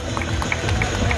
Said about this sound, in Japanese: スタンドの皆様、杉山和幸様にもう一度拍手をお願いいたします。